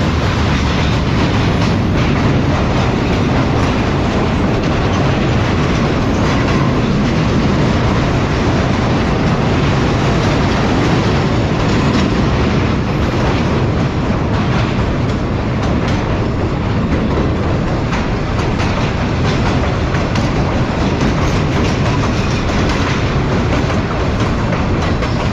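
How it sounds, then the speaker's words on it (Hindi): Shalimar Express passenger train rolling toward the Mehran bridge after Kotri station, a steady loud rumble with rhythmic clickety-clack of wheels over rail joints throughout, no voices. "कोटरी स्टेशन के बाद ट्रेन हमारी मेहरान ब्रिज पर अप्रोच बनाते हुए"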